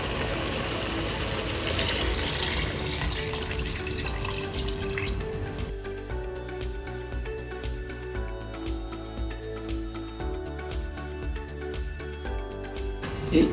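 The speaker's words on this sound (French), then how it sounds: "À ce stade, je vais rajouter encore un peu d'eau" Water poured into a pot of simmering oxtail, a steady rushing pour that gives way to bubbling and small splashes as the liquid settles.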